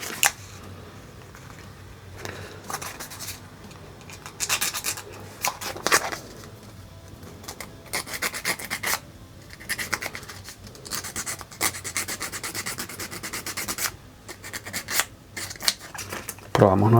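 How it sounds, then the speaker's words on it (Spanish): Sandpaper rubbing a 3D model kit part for a Dimorphodon, producing soft, scratchy strokes in irregular bursts with occasional clicks and handling noise. "vamos a lijar un poco"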